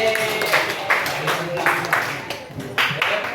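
A group claps in rhythm during a career talk session, bursts of synchronized claps in counted sets, while a leader calls out the counts over them.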